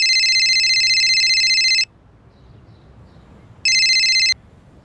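A loud electronic phone ring sounds for about two seconds, pauses, then rings again briefly before cutting off.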